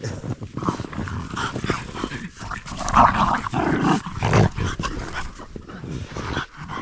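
Dogs growl and whimper in a snowy winter forest, with light snow falling at around zero to one degree; the low grumbles and whines come close and fairly loud in irregular bursts over several seconds.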